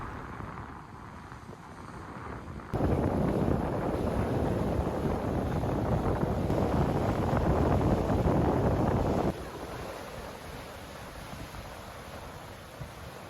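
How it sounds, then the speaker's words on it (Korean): Steady broadband rush of surf washing ashore, loud through the middle then easing back to a softer wash, with no voices. "파도 소리 들으며 바다멍 하기에 정말 좋습니다."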